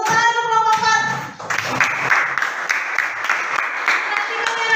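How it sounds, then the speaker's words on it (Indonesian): Students in a classroom clap for a group after a speaking voice, and the brief, bright clapping carries on for several seconds. "Tepuk tangan untuk kelompok 4"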